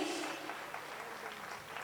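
Applause from an audience at a felicitation ceremony held at Sadhna Bhawan, a steady wash of many hands clapping at moderate distance and fairly faint, continuing evenly without talk.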